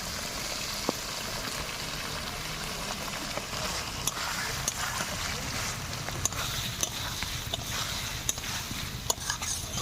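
A pan of pointed gourd and prawn curry being stirred, with repeated scraping and clinking of a spatula against metal over a continuous sizzling hiss, close and steady throughout.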